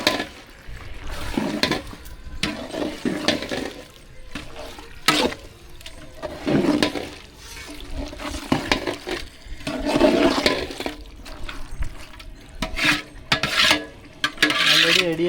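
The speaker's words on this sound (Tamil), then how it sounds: "ஆல்ரெடி ரெடியாக வச்சுருந்த மசாலாவில் சிக்கன் எல்லாம் நல்லா மிக்ஸ் ஆகிற மாதிரி கலக்கிக்கணும்" Chicken is stirred into a prepared masala for chicken biryani, producing wet, rasping scrapes and squelches in irregular strokes, close and moderately loud, with no speech.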